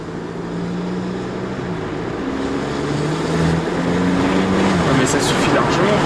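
A 2018 VW Polo 6 GTI engine hums close from inside the car on the road, its pitch stepping upward as it downshifts, with a steady rising drone and some faint high rattles near the end.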